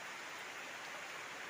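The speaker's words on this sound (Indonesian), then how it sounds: "Hujannya malah turun." Rain falling outdoors at a fishing spot, a dense, uniform wash of drops that stays constant and fairly close for the whole short stretch, with no voices.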